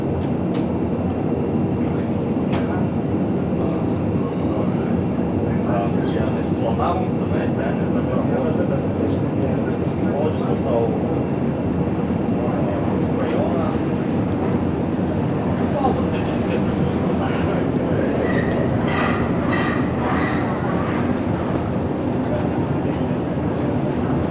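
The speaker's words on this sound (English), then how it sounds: "Please hold the handrail. Shuttle is departing." An airport-style shuttle train pulls away with a steady, close rumble and rattle of the carriage, while a voice speaks over the running noise.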